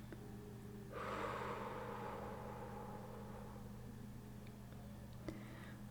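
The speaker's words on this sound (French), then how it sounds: "Et on expire par la bouche." A slow exhale through the mouth during a guided breathing meditation, a soft broadband breathy rush that starts abruptly, swells, then fades gradually over a few seconds against a quiet hum.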